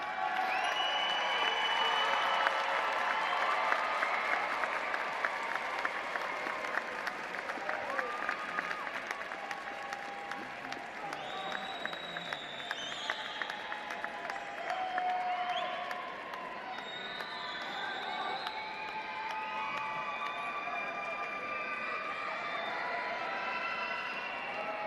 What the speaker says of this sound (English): look for your family and loved ones in the audience and salute them with your applause